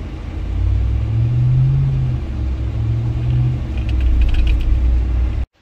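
A Ram TRX pickup's engine runs while the truck coasts toward a stop sign, a low steady rumble with some mechanical creaking and faint rattles rising late, close and continuous.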